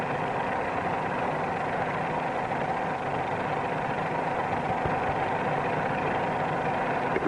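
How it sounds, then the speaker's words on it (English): A 1945-era light airplane engine drones steadily as it works harder in a climb, a continuous close, loud hum with no pauses and no one speaking. "Another cue to the correct climbing attitude is the sound of the engine. It's working harder than it did in level flight, but it still sounds all right."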